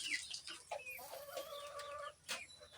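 Chickens cluck and chatter nearby in a steady, busy stream, with a few brief louder calls breaking through.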